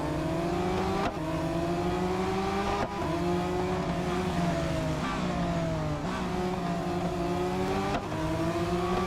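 Race car engine in the Real Racing 3 game revs continuously, climbing through gears with several sharp shift breaks, loud and close with no talking.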